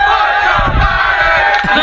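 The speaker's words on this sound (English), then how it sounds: "as you can hear the chants from the crowd" Large crowd at a Talladega motor race chanting in unison, loud and distant-sounding, with a roaring wash of voices under a speaking voice in the foreground.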